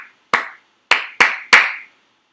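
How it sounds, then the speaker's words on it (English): Hands clap a rhythm pattern close and loud: one clap, a pause, then three quick claps in a row, each sharp and dry with a brief decay. "the last one is to do some clapping patterns with them"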